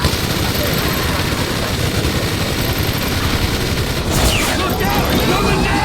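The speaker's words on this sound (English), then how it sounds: "Police chopper. Team, down the bird." A police helicopter's rotor thrum blends with dense bursts of gunfire from a heavy machine gun in a bank-heist video game, loud and continuous, with a sharp burst of impacts near the end.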